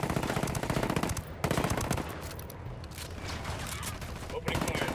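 Automatic gunfire in the video game Ghost Recon Wildlands: dense, loud sustained bursts with a brief lull in the middle, then another burst, backed by continuous battle noise.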